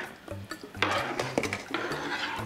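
A spoon stirs thick vegan pot pie filling with carrots and potatoes in a pot, giving close, irregular scraping and clinking against the pot sides over a low simmering background.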